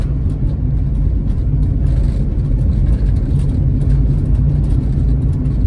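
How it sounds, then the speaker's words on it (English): Steady road traffic in Brazil, a continuous low rumble of car engines and passing vehicles heading toward a beach town, loud and close with no voices. "Now, all of these cars that you see here, this traffic here,"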